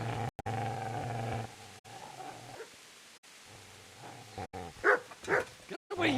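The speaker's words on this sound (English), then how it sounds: "Get away, you mutt!" A dog barks and growls in short, loud bursts close by, with rough throaty snarls and gaps between them. Voices can be heard alongside.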